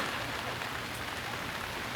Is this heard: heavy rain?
yes